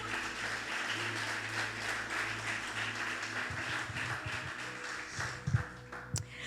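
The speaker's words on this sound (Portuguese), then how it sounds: "Tu dê um aplauso ao Senhor por isto." A church congregation at a family worship service applauds together, a steady wash of many hands filling the room under a low hum, with a few louder individual claps near the end.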